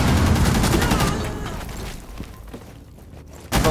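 Gunfire in the Rainbow Six Siege video game: a dense, loud burst of rapid shots up front fades into quieter scattered cracks, then a sharp blast returns at the end.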